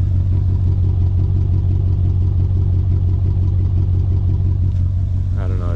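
A Mercedes C55 AMG engine running rough and down on power, a steady loud low drone heard from close by, with a voice speaking briefly near the end.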